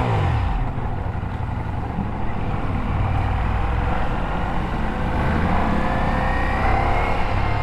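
A Ducati touring motorcycle cruises along a road, its engine a steady, loud drone mixed with rushing wind, close and continuous without pauses.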